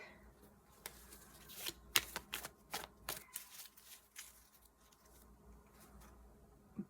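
Cards are handled and drawn from the deck of a Candy Land board game: a series of quiet, close flicks and slides in irregular bursts, then a softer rustle at the end.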